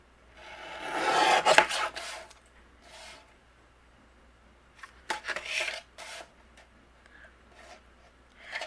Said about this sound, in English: I'm going to trim a little bit off here.